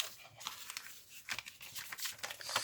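Paper cut off for a mini piano roll: continuous close crinkling and crisp snipping and tearing rustles, fairly steady with a few sharper bursts, no voices.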